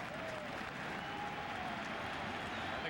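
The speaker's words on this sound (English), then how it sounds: "And the crowd to its feet." A baseball stadium crowd at a 2000 National League Division Series playoff game between the Giants and the Mets roars and claps on a full count, a dense, distant, sustained wash of cheering.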